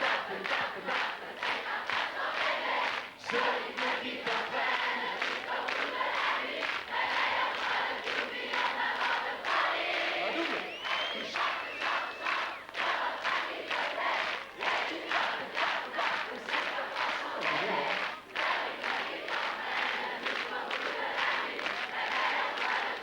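A 1988 French television studio audience claps hands in time to a beat, a dense steady pulse of rhythmic claps with crowd voices singing and shouting along, loud and continuous throughout.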